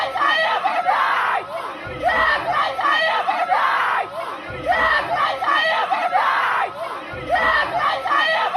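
Protest crowd screaming and yelling at a convention, a loud chaotic mass of overlapping shouts and chants rising and falling in repeated waves, heard continuously throughout.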